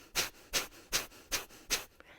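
Five quick, forceful nasal exhalations of Kapalabhati yoga breathing, a faster variant, rhythmic and close with a breathy hiss on each push and short silent recoveries between.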